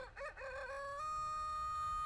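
A chicken creature in a video game gives a short clucking, crowing call with rising, wavering pitch, close and fairly loud over a low rumbling game backdrop, ending in a held tone.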